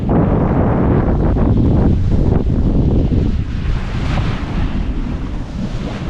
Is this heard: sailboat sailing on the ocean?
yes